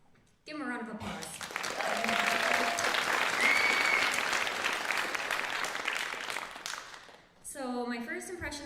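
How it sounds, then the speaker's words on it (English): Sustained audience applause at a graduation ceremony, loud broadband clapping filling the room for about seven seconds before fading, with brief voices and cheering at the start and end. "Give him a round of applause."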